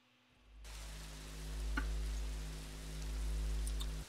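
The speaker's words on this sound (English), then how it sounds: "thanks for saying you like the rain" Rain falling in the video game Songbringer, a steady soft hiss of rainfall beginning abruptly and continuing evenly under a low hum, with one faint tick partway through.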